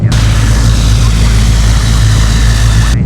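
Steady drone of an ATR 42-500 turboprop engine running in the flight simulator Prepar3D v5: loud, constant low rumble with a broad hiss on top, unchanging for the whole stretch, no speech.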